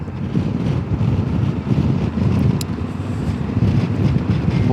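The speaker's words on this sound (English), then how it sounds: "it's definitely windy. I'm getting blown all over the show." Strong wind buffeting a rider on a 2023 Triumph Tiger 1200 Rally Pro motorcycle, a loud, steady low roar of wind noise with gusty swells and no voices.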